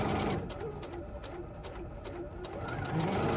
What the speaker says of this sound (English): So we press on the foot pedal, it'll drop the presser foot, and if you notice it will stitch and not move the fabric